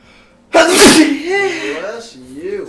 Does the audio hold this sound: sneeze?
yes